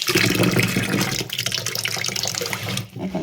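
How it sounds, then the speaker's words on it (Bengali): Tap water runs steadily into a sink or bowl where small fish are left to soak, a continuous close splashing flow with no talking. "এখন এটার মধ্যে মাছগুলি ভিজাই রেখে দিই"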